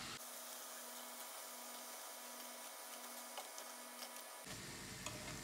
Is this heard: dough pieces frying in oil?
yes